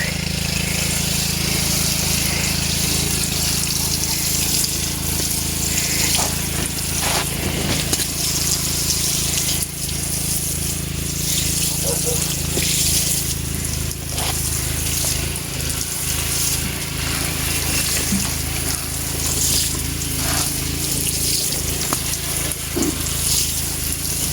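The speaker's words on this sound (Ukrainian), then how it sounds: "Зараз я її ще раз полию. І цибульку полиємо." Water pours steadily onto radishes and onions in a vegetable garden, a continuous close gushing spray with faint clicks and background noise throughout.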